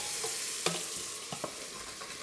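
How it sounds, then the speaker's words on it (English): Red wine hits a hot pan to deglaze it for a red wine sauce, producing a steady hiss of sizzling. Several short clinks and scrapes from stirring cut through the sizzle. "This is called deglazing and it's super simple."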